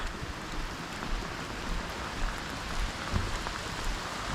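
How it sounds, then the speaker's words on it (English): Steady rain falls during an outdoor walk on a stormy Memorial Day, a continuous even hiss of drops with scattered close patters, moderately loud and with no voices. "It's just rain."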